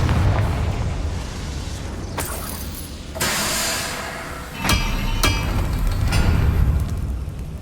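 Confringo fire spell blasts in the Hogwarts Legacy video game: several sharp explosive bursts with booming impacts, loud and close, over continuous low game rumble, with no talking.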